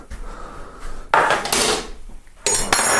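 A spoon scrapes and knocks around a bowl while Tottenham cake batter is mixed in a home kitchen, with irregular clattering strokes, quiet at first, then louder bursts of scraping.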